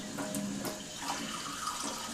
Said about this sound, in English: open the water, and that will send water through the water ionizer